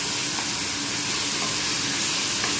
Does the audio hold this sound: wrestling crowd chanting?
no